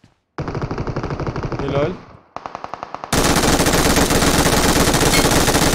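Automatic gunfire in the mobile game PUBG Mobile: a rapid burst of shots, a short gap, a few spaced single shots, then a long, dense, loud stretch of sustained fire, with a brief spoken word.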